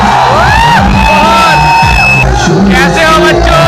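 A dense crowd of students on a college campus cheers, whoops and shouts loudly and up close, voices overlapping continuously throughout.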